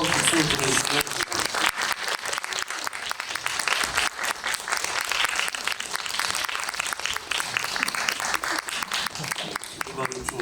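A theatre audience at a film screening and guest talk gives loud, sustained applause as the cast enters, with dense, crackling claps that hold steady for about ten seconds.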